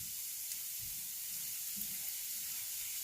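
Red and green bell peppers sizzle in a big pan, a steady soft hiss of frying that stays even and fairly quiet throughout with no talking.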